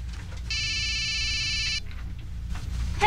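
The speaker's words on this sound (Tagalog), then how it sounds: "Pa, nag-ring yung telepono." A telephone rings once in a room with a steady electronic tone that lasts just over a second, followed by low background noise and rustling.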